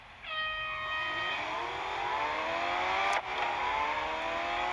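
Race car engines from a circuit racing video game, with Porsches among the field, rev and whine in rising and falling harmonic sweeps, loud and steady throughout, with a brief sharp burst near the end.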